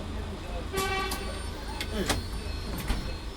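Car horns toot several times in Paris street traffic, heard from inside a bus traveling from Saint-Denis to Porte des Lilas, short sharp blasts over road rumble with voices talking nearby.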